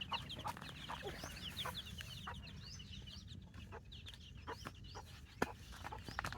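Hens cluck repeatedly close by against a busy backdrop of high, chirping chicks' peeps, with no talking.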